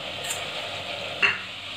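Masala frying in oil in a pan as it is stirred, a soft steady sizzle with a brief scrape of the spoon about midway, close by and without talk.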